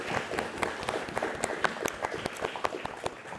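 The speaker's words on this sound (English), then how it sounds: "I want to applaud you, actually. Applause to you guys." A small audience applauds a medical student from Gaza at a podcast event, with a quick spatter of irregular claps that sounds fairly close.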